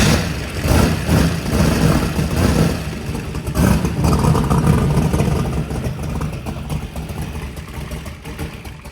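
A turbocharged Saturn car engine runs steadily and loudly throughout, with an idling rumble and slight surges, under no speech.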